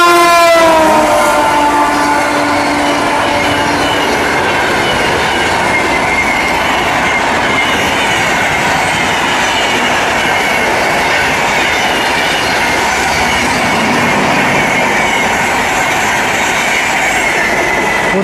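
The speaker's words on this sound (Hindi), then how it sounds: "पूर्वा एक्सप्रेस तो हमारी ट्रेन की क्रॉसिंग हो गया है" The Poorva Express rushes past on a crossing at close range, loud and continuous, with a horn blast at the start and steady wheel rumble, clatter and squeal throughout.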